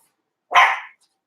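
A small dog gives a single short, sharp bark, close and loud, with silence before and after.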